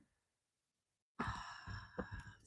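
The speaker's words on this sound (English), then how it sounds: "Deep breath in." A single deep inhalation taken close to the microphone after a near-silent pause, rising quickly and holding steady for over a second before easing off.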